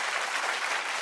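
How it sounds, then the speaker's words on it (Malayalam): A studio audience at a comedy show applauding, a dense continuous clatter of many hands clapping for a brief moment with no voices. "ഞങ്ങൾ വീണ്ടും കൈയടി തുടങ്ങിയല്ലോ"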